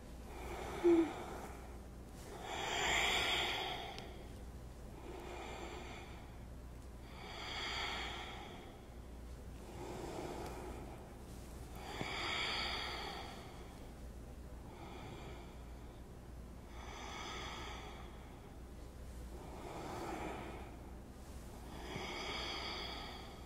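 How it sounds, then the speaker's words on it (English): Robin's breaths during a standing Tadasana yoga practice, a series of about eight slow, audible breaths spaced evenly, each a soft airy rush close to the microphone with quiet pauses between. "Let's do 3 robin's breaths here."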